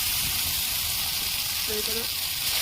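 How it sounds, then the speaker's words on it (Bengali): Garlic, onion and vegetables sizzle steadily in hot oil for a fish-head curry, a loud continuous hiss filling the clip, with a brief voice near the end. "রসুন পেঁয়াজ দিয়ে এটাকে তেলে পোড়াবে"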